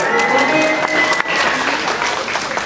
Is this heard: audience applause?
yes